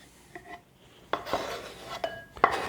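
Chopped parsley tipped from a cutting board into a bowl of olive tapenade mixture, heard as a few soft scrapes and light clinks of a utensil against the bowl, close and quiet, with no talking.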